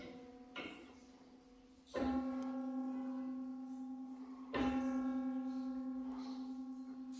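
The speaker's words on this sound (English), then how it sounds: "if you do it like that, it sounds like the bells or a church" Sustained, ringing piano notes struck one after another in an old abandoned church, each blooming and fading slowly with a bell-like tone, played alone at moderate volume.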